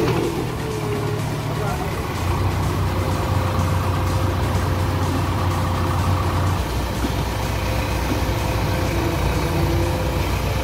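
Loaded tractor pulling away from a JCB loading site on a main road, a steady low engine drone with broadband rumble, continuous and fairly loud, with faint traffic noise around it.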